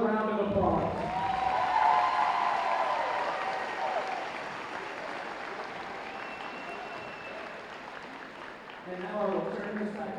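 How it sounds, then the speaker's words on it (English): Audience applause for three senior players, their coach Harder and the team at a girls' high school basketball game, a sustained round of clapping filling the gym, easing off toward the end as a voice begins speaking. "can we please give these 3 seniors and Coach Harder and team another round of applause"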